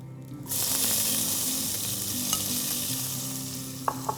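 Grated ginger and sliced tomatoes dropped onto sautéing cumin seeds in hot oil, a sudden loud burst of hissing sizzle that settles into a steady fry, with a couple of light utensil taps near the end.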